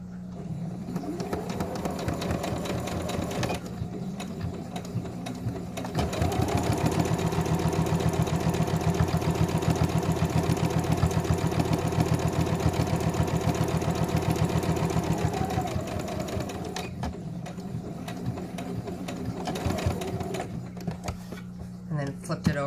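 A sewing machine stitching the seams of a modified Olson fabric mask, a steady rapid needle chatter that runs continuously, louder and faster in the middle stretch, then easing off near the end.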